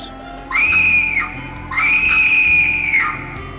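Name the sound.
scream in the video game The 7th Guest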